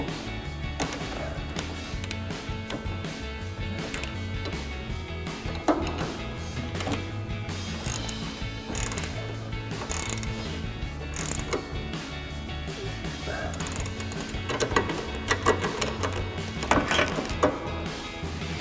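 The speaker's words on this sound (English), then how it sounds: "to fully tighten this nut down, we're going to grab our 18mm ratchet wrench and a 5mm Allen socket on our ratchet" An 18mm ratchet wrench with a 5mm Allen socket tightens the strut nut on a 2005-2009 Mustang GT front strut assembly, giving steady ratchet clicking, metallic clinks and handling noise throughout, close and moderately loud.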